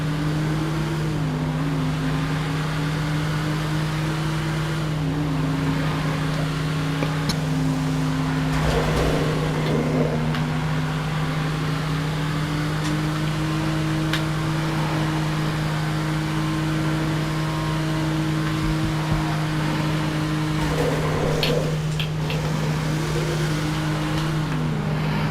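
A sports car engine in the video game GTA V Online drones continuously, its pitch climbing and dropping with gear changes and throttle, accompanied by a steady low hum and no talking.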